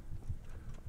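Horse hooves clip-clopping at a steady walking rhythm in the medieval video game Kingdom Come: Deliverance, a handful of soft, low thuds in close succession with no talk.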